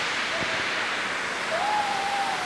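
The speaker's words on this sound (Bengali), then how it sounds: "ঝর্ণাটা অনেক সুন্দর" Steady broadband rushing of Komoldoho (Rupsi) waterfall in Sitakunda, Chittagong fills the scene, constant and moderately loud, with a faint tonal whistle drifting over it.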